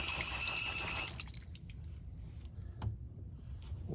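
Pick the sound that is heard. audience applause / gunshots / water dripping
water dripping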